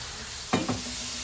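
Steady sizzle of eggplant frying in hot oil, with a couple of brief louder bursts as pieces are moved around.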